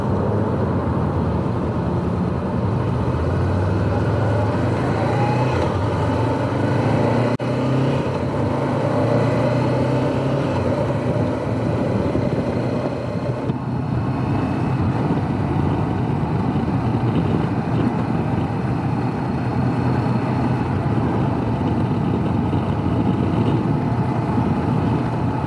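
A Honda CB500X motorcycle on a road gives a steady engine drone blended with wind and road roar, holding continuously for the full stretch with slight shifts in pitch and no talk.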